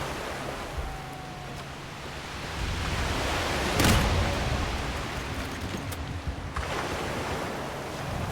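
Ocean waves at sea in Mount and Blade II: Bannerlord, War Sails naval setting: a steady broad wash of surf and wind, with a louder surge swelling midway before settling back to constant rushing water.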